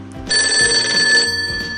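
A telephone rings on an outgoing call, one steady electronic ring tone lasting about a second, close and fairly loud, with soft room noise around it.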